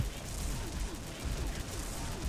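Gunfire in the online shooter game XSHOT, a dense continuous stream of rapid shots and bursts, moderately faint and blended with game noise.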